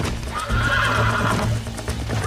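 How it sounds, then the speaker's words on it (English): Horses in the Red Dead Redemption video game whinny and neigh loudly, with hoof clip-clops and steady game ambience running under them throughout. "We got some fine horses."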